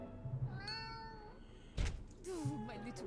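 A cat in the Ravenous Devils video game gives two clear, fairly close meows with a dull thunk between them, over a quiet background.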